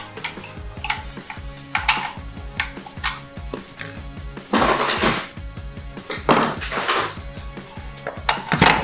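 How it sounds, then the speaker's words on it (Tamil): A screw is loosened on the terminal of an ERD power supply, heard as close, rapid metallic clicks and scrapes with irregular taps and a few louder rattling bursts, with no voices. "ஸ்க்ரூவில் நீங்கள் லூஸ் பண்ணணும்."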